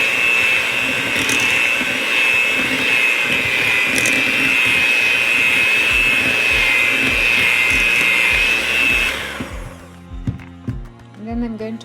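An electric mixer beats butter with powdered sugar for a cake, giving a loud, steady motor whine for about nine seconds before cutting off, followed by a voice talking.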